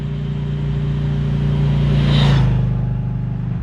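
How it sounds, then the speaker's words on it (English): A 2021 Harley-Davidson Low Rider S idles nearby with a deep, lumpy V-twin rumble. It swells briefly in a short rev, then settles back to a steady loping idle, with no voices. "Let's hear that Harley sound."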